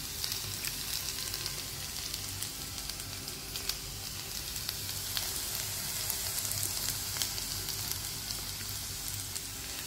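Ivy gourd and masala roast in a pan with a continuous soft sizzle and scattered crackles of oil, heard at close range with no voices.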